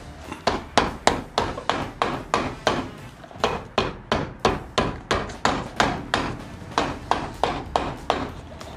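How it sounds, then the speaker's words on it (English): Steady rhythmic hammer blows, around two or three per second, ring out close and loud with a short pause midway. "So we'll hammer a little bit."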